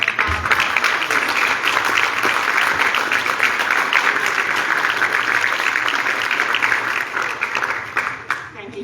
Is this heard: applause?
yes